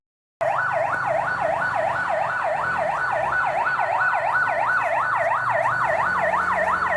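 A fire truck siren wails loudly and steadily in a rapid rising-and-falling pattern, close by and continuous over a low rumble of traffic, sounding at the scene of a fire near a hut and lot.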